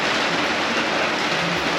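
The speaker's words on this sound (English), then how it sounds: "It's raining." Steady rain falls outside a house during a kitchen windowsill and dining table refinishing job, a dense, even hiss of drops filling the whole clip with no talk over it.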